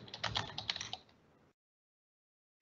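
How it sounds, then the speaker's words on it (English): Fingers typing an email address on a computer keyboard, a quick flurry of light, close key clicks for about a second and a half, then silence and one final tap. "I'm typing my mail ID."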